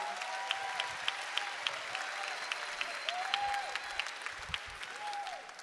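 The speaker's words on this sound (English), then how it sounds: "Give him a big cheer, would you please?" A chapel audience applauds steadily throughout, a dense, continuous wash of clapping with faint cheers at moderate distance, one voice briefly rising above it.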